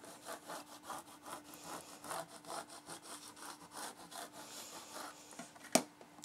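A scraper rubs back and forth over vinyl transfer tape in steady, close, repeated strokes, ending with a sharp tap near the end.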